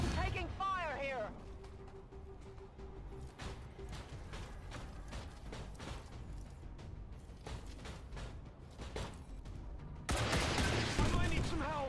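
Gunfire and mechanical clatter from the video game XCOM 2: War of the Chosen, a rapid fusillade of sharp cracks and ratcheting noises, with a voice heard briefly and a louder burst near the end.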